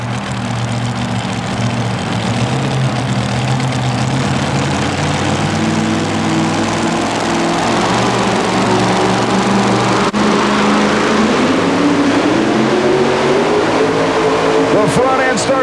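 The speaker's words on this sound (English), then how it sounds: "This is Dick McPherson's new Missouri Raiders supercharged Chevy entry" A supercharged Chevy two-wheel-drive pulling truck roars loud and close at a 1991 Pennsylvania truck pull, its engine note rising steadily in pitch as it strains, with a commentator talking over it.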